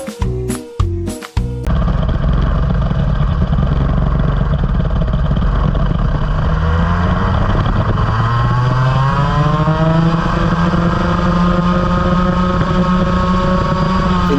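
A go-kart engine drones steadily and loud on a race track at Michael Schumacher's home circuit, its pitch rising and holding as the kart accelerates, after a few sharp bumps and knocks at the start.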